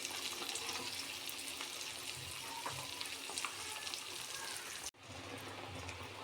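Eggs fry in hot oil in a pan, browning after being flipped, giving a steady low sizzle with small pops and crackles that cuts off briefly before resuming, with no talking.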